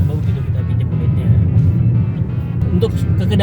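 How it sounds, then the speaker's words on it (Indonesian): Engine drone of a Daihatsu New Sirion heard from inside the cabin on a test drive, a steady low rumble with road noise throughout, loud and continuous, with speech over it. "itu raungan mesinnya terdengar cukup jelas juga nih sampai masuk ke dalam kabin."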